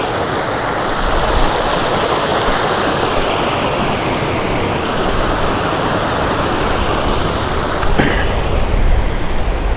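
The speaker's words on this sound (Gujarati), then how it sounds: "આ નદીનું પાણી જ મિત્રો જો આગળ આવતું હોય છે, અને ધીમે ધીમે પાણીનો પ્રવાહ છે" River water flows through a rocky canyon in Kutch, a dense, loud, continuous rushing wash close by, steady throughout with a brief sharp knock near the end.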